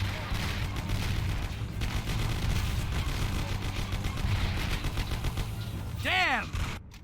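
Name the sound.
gunfire in Mafia video game shootout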